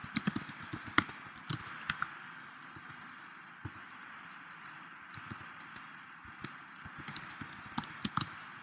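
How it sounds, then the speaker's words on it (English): Typing on a computer keyboard while text is entered into a web form. The key clicks are quiet and irregular, coming in quick bursts and short pauses over a faint steady hiss, with no talking. "We're just typing in John Bob"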